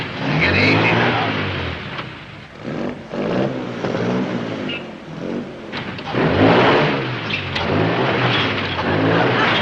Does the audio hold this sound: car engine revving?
yes